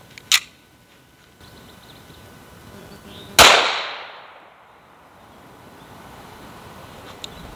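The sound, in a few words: Smith & Wesson M&P 5.7 pistol first shot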